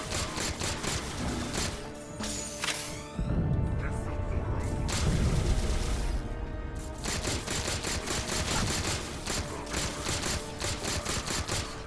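Enemy gunfire in Halo 4 on a Mythic mission: dense, loud volleys of automatic shots with booming impacts that hammer on almost without a break, joined by a crashing burst partway through.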